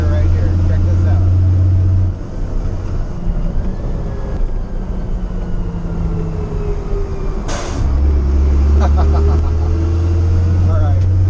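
A CAT 3116 LMTV truck fitted with a Pacbrake PXRB exhaust brake drones loudly under a deep, steady engine rumble that drops and then returns, with a whooshing, spacey tone over it and speech in the cab.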